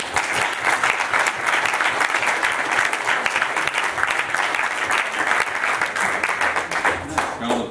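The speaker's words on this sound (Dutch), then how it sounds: "Graag een daverend applaus voor Erik Heenen." Loud, sustained applause from a lecture audience at a university economics talk in Ghent, dense clapping filling the whole stretch without letup before fading slightly near the end.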